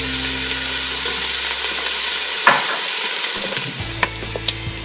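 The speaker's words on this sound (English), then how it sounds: "We'll start by adding 2 cups of bacon to the preheated pot." Bacon hits a preheated pot in a steady, close sizzle, with a few sharp clicks and clatters of stirring near the end; no one speaks.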